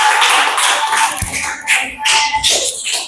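A classroom audience claps briefly for a student group presentation, scattered light applause that rises, fades and trails off into a few isolated claps over about three seconds.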